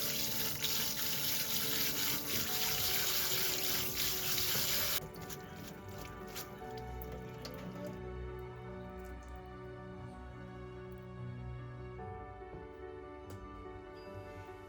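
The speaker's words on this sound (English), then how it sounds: "Once they are cooked, I rinse them well under cold water." Cooked somen noodles are rinsed under a cold running kitchen tap, a steady close hiss of flowing water for about five seconds, followed by softer splashes and drips with faint clinks.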